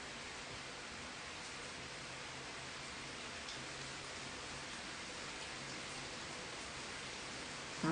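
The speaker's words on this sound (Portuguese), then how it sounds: "Estão escutando o barulhinho da chuva?" Rain falls steadily outdoors, a dense, even hiss that stays constant from start to finish with no talking over it.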